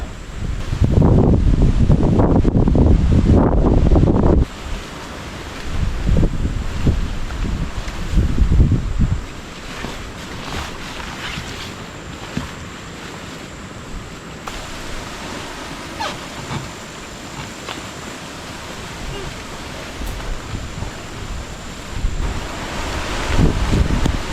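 Strong wind buffets the microphone at a campsite beside San Roque Dam, roaring loudly in heavy gusts at first and then settling into a steadier rushing blow with rustling, and no one speaking.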